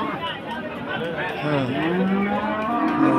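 A cow at a cattle market lets out a long, drawn-out moo that rises and falls, close by, amid a busy crowd with people chattering in the background.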